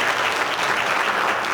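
An audience at a school board meeting gives an elementary school principal a steady round of applause, a brief, full burst of clapping throughout.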